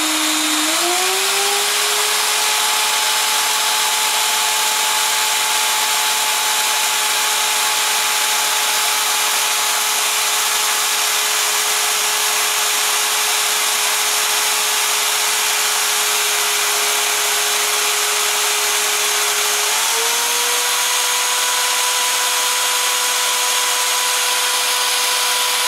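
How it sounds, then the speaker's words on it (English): A power drill twists wire for a fused Clapton coil, a loud steady whine that holds its pitch for about twenty seconds, then steps slightly higher as it keeps running continuously. "So always keep that tension on your drill."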